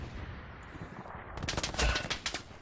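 Machine gun fire in the video game Jarvenhill, a rapid burst of crackling shots erupting after a quiet stretch, fairly faint and distant.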